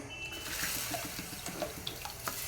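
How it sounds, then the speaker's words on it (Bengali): Three cups of water pour onto sugar in a pot, a brief, soft run of splashing and trickling with small bubbly spatters, heard alone. "এই দু কাপ চিনিতে এবারে আমি দেব তিন কাপ জল"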